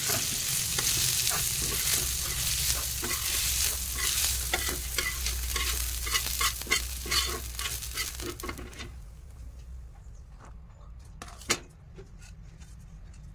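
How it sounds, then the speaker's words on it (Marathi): Green chilies, garlic, coriander and curry leaves frying in oil give a busy crackling sizzle mixed with stirring, then fade to a quieter pan with a few scattered clicks. "मिरची, लसूण, कोथिंबीर, कढीपत्ता हे सर्व तेलात भाजून घ्यायचे आहे।"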